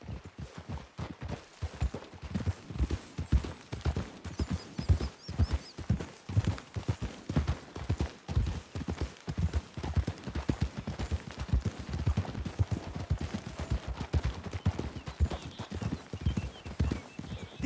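Several horses' hooves clip-clop steadily on the ground in Red Dead Redemption II, a quick, continuous rhythm of fairly quiet, close hoofbeats with a faint whinny and low ambient noise.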